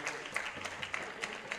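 Audience clapping for two young hosts at a Gujarati school or community event, a steady patter of hands at moderate level lasting the whole moment, with no voices over it.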